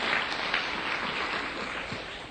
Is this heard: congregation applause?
yes